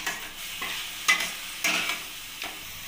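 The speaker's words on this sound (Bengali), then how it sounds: "টমেটোটা মশলার সাথে ভালোভাবে কষিয়ে নেব।" Tomato paste being stir-fried with spices in a wok, soft sizzling under several distinct scraping strokes of a spatula against the pan, close and unhurried, no speech.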